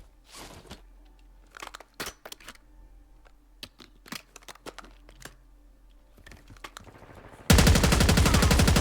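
Sharp gunshots crack out in a shooting video game, scattered irregular single reports at close range over quiet background, then a sudden sustained burst of loud dense fire at the end.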